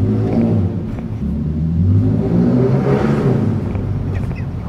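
A 2022 Toyota Tundra fitted with a Carven exhaust revs up close by, its engine note swelling to a loud peak and then settling back to a throaty, rumbling growl.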